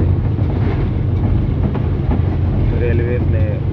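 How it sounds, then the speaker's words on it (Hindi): Sir Syed Express passenger train passing Kot Samaba station on the railway track, a steady loud low rumble of wheels and carriages throughout, with brief higher tonal squeals near the end. "ये एक और गाड़ी रास्ते से आती हुई, ये सर सैयद एक्सप्रेस है"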